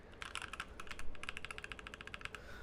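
Fast typing on a mechanical keyboard fitted with Razer Orange tactile switches, a close, quiet stream of crisp clacks in rapid irregular bursts with no voice.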